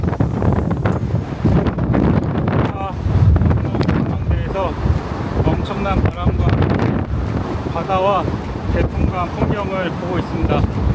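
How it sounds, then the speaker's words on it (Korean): Strong wind buffets the microphone at a Dokdo island observatory, a loud continuous rushing roar with gusts under steady conversation throughout. "전망대에서 엄청난 바람"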